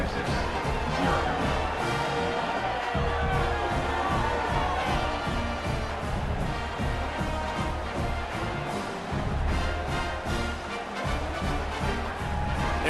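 A roaring stadium crowd in the College Football 26 video game, Temple Owls at North Texas Mean Green, forms a dense, steady wall of cheering and murmur that fills the whole stretch without any clear break.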